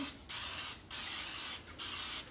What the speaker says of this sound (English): I'm just going to spray it so it won't stick